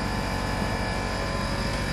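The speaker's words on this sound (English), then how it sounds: "That's my air compressor outside kicking off." An air compressor outside runs as a steady, dense droning hum, loud and continuous, with no talk over it.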